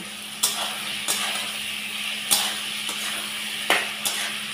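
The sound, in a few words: poppy seed paste frying with ridge gourd and potatoes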